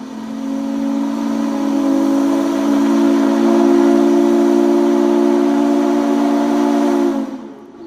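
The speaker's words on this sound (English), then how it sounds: "I wonder if he didn't hear a sunset horn from a nearby lake, a sort of warning horn for the oncoming sunset" A sunset warning horn sounds across a lake on the University of Wisconsin campus: one long, steady, loud horn blast holding a rich harmonic tone for about seven seconds before it cuts off, with no voices.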